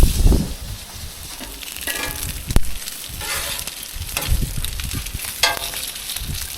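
Moose sausages frying on a Blackstone griddle, a continuous close crackling sizzle with occasional pops and scraping stirs breaking through.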